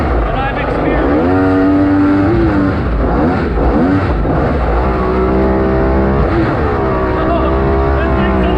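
An aluminum jet boat powered by a two-stroke triple jetski engine revs hard, its rasping whine climbing and dropping through repeated throttle bursts, loud and close with no speech.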